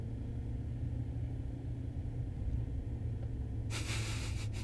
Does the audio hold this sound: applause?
no